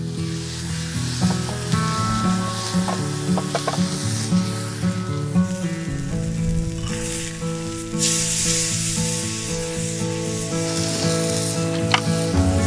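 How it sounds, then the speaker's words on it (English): Ribeye steak sizzling loudly and steadily in a hot pan, a continuous crackling spatter close by, with occasional small pops and a faint background hum and no talking. "Nice ribeye. I like it medium rare, so maybe 4 minutes on each side should do it."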